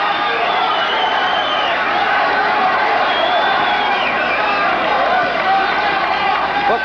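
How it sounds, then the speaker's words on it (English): A boxing arena crowd roars for underdog heavyweight Alfonzo Ratliff, a loud, sustained wall of cheering and whoops from the audience that swells and holds without a break. "The crowd responding to the underdog, Alfonzo Ratliff."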